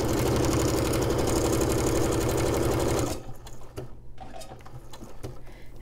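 A sewing machine runs fast and loud, stitching fabric and backstitching, then cuts to a quieter stretch of short mechanical clicks and handling.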